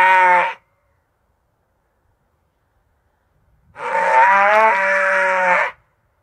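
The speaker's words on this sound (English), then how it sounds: "or sheep bleating." AI-generated sheep bleating: a short bleat at the start, then after a pause of silence a longer wavering bleat, both close and clear with nothing else around them.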